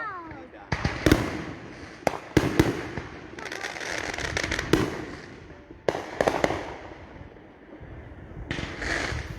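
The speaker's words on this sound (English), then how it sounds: "See, down at the house, big firework." Big Fourth of July fireworks bursting near houses, a run of loud, sharp booms and crackles in irregular clusters, with excited voices talking between and over the explosions.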